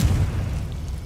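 A Confringo blasting curse goes off in the Hogwarts Legacy video game, a single deep booming blast with a rumbling low-end tail that fades over about a second, heard alone.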